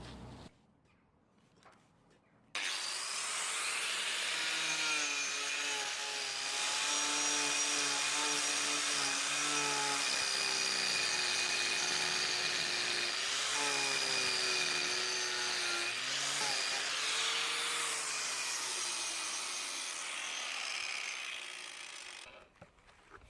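An Arbortech Turboplane blade on a grinder carves timber toward a large bowl, a steady high whine with rasping wood contact that rises and dips in pitch, close and loud, starting abruptly after a quiet start and cutting off at the end.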